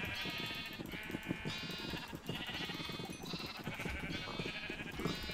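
Sheep bleating in a video game, several drawn-out wavering bleats overlapping one after another, close and loud over a busy background of rustling ambience, no talking.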